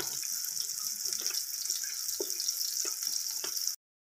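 Chicken being fried in masala in a pan for a Punjabi-style chicken kadhi, giving a steady hiss and sizzle with faint intermittent clicks and stirring sounds, no talking.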